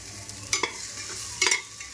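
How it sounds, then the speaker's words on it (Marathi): Onion-garlic masala and veg biryani masala being sautéed in a pan, with two short bursts of stirring scrapes standing out over a faint steady sizzle, no voices. "छान परतवून घेऊया मसाले"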